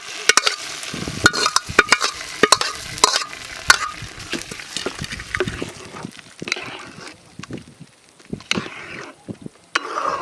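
Mango pachadi stirred in a pan, a spoon scraping and clacking in quick irregular strokes over a soft sizzle, close and fairly loud, thinning out toward the end.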